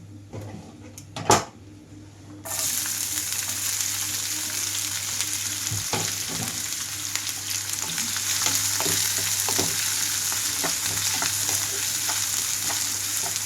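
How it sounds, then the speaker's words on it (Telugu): Chopped onions go into hot oil already holding mustard seeds, cumin and curry leaves for a dhaba-style egg keema curry. A sudden, steady sizzle follows, with occasional stirring scrapes and utensil clinks against the pan. "ఇప్పుడే ఇందులోకి కట్ చేసి పెట్టుకున్న ఉల్లిపాయలు వేసేస్తున్నాను"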